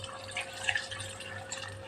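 Water trickles and drips into a kitchen grinder jar while neer chutney is being made, a faint, close pouring sound with a low hum underneath.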